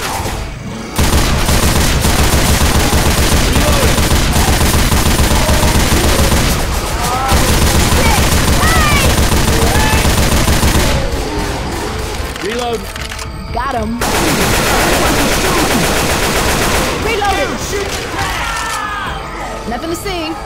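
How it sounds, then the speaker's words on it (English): Dense gunfire from Left 4 Dead 2 on the Plantation level of Swamp Fever, with sustained rapid shooting and booms and brief lulls, loud throughout while players talk over it. "I'm reloading."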